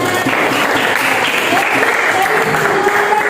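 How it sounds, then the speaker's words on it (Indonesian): A class of students applauds a classmate with steady, dense clapping that holds at an even level throughout, with a few voices mixed in. "Oke, tepuk tangan buat Putri ya."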